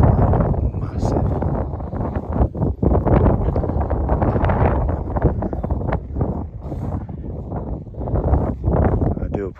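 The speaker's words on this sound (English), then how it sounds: "I do apologise if it is windy up here" Gusty wind buffets the microphone across an exposed industrial site, a loud, rough, continuous rumble that rises and falls in bursts, with a voice talking under it.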